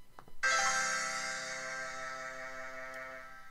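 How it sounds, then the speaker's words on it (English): A single bright synthesized chord, rolled by Flat online notation software, sounds after a faint lead-in, its notes ringing together and slowly fading over a few seconds. "this last chord, I want to want to roll it."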